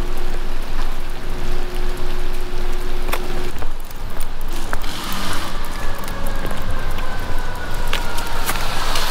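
Light rain falls in Montreal on a warm, humid day, a steady close patter and hiss with scattered sharper drops and a faint passing tone, no voices.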